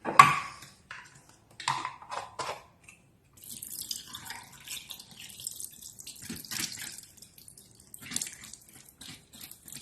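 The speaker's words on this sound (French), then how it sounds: "je vais rincer" Running tap water rinsing soaked grain for Essene bread, with intermittent splashing and dripping into a sink, close and soft, stopping and starting in short bursts over several seconds.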